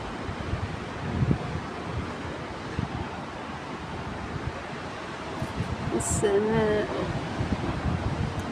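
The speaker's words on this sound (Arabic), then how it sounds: "امواج البحر." Sea waves and wind on a shore under an open morning sky, a steady broadband wash of surf and gusting air that fills the whole stretch at moderate level, with a brief tonal sound near the end.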